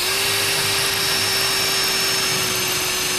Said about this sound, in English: can you see how it's going straight through the brick?